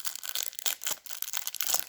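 A Secret Lair Stranger Things card package is torn open by hand in a few quick, close, fairly quiet ripping and crinkling bursts.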